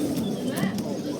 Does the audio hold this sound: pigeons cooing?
yes